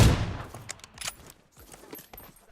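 Rapid bursts of gunfire from the mobile battle royale game PUBG Mobile, a sharp opening shot followed by scattered shots and clatter over a couple of seconds, moderately loud with no talk.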